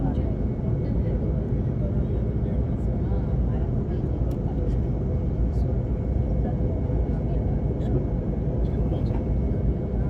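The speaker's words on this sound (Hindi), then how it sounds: "तो लैंडिंग गियर एक्सटेंड हो गया।" Steady, loud rumbling roar inside an IndiGo airliner cabin on approach to Ranchi as the landing gear extends, a constant engine and airflow drone with faint scattered clicks and no clear voices.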